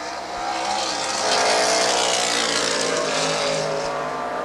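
Camaro race cars in an IMSA Kelly American Challenge race on a wet Lime Rock Park track, a steady roaring engine wash with hissing spray, swelling slightly as cars pass at mid distance.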